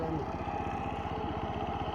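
A rice reaper's engine runs steadily while cutting a rice paddy, a close, even mechanical chugging with a regular pulsing beat, and people talk over it.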